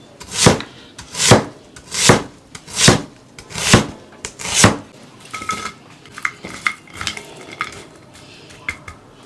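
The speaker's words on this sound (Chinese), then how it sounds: "切点蒜末，先拍一下。" A kitchen knife whacks garlic cloves on a wooden board with six loud, evenly spaced smashing blows, then quicker, lighter chopping taps follow, all close up and without talk.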